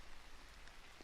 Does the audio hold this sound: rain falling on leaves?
yes